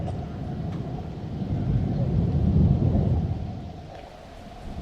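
A low, distant rumble of thunder swells and rolls for a few seconds before fading, with soft outdoor background noise.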